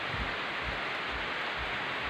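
Steady rain falling during a spell of bad weather, a dense even hiss with soft low thumps, continuous and close.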